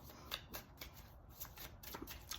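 A deck of tarot cards is shuffled by hand at close range, a quick series of crisp riffling and sliding flutters with no talking.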